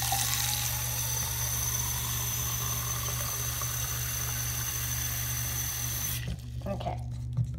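Water pours steadily from a tap into a sink, a constant rushing hiss that cuts off near the end.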